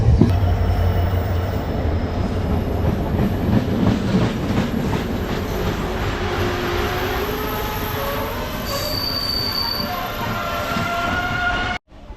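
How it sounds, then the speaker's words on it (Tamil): Yarl Devi, a red and yellow express train in Sri Lanka, thunders past at high speed, a loud continuous roar of wheels and rushing cars with rhythmic rail clatter and metallic squeal, cutting off abruptly near the end. "ட்ரெயினின் ஸ்பீட் வந்து ஒரு நூற்றி இருபது கிட்ட அந்த வேகத்தில் வந்து போயிடும் யாழ்தவி ட்ரெயினும்"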